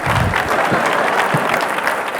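Applause from a conference audience, a dense, steady burst of many hands clapping close by, with faint voices mixed in.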